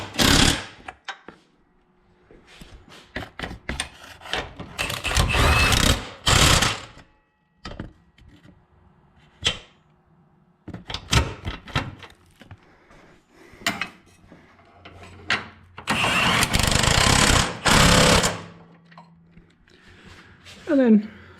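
Bolts being tightened on a Subaru BRZ subframe during an LS engine swap, with repeated metallic ratcheting bursts and clanks of tools close by, separated by brief pauses.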